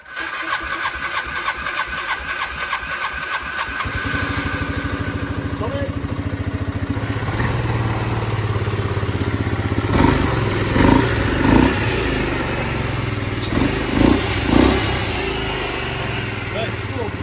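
A 2004 Boom Trike Fun with a Piaggio 500 engine and Comex reverse gearbox cranks and catches after a few seconds, settles into a close idle, then gives several short revs while a voice talks over it.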